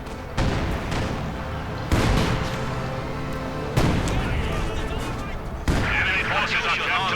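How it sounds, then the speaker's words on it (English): Field gun artillery fire in Company of Heroes 2, with four heavy booming blasts spaced about two seconds apart, each leaving a dense rumbling tail and crackling battle noise. "the field gun firing as artillery"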